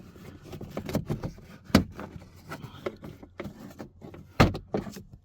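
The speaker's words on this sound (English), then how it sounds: "we're just gonna pop that right under the front edge over here and pop that straight up" A trim panel tool prying up the dash speaker panel in a 2018 RAM makes close plastic clicks, creaks and scrapes, with two sharp snaps standing out among smaller rattling handling noises.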